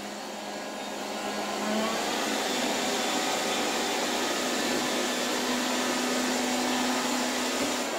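A Silvercrest SSWR A1 robot vacuum cleaner with mop function runs at its high setting, emitting a loud, steady whirring roar with a faint tonal hum that holds constant throughout, with no speech.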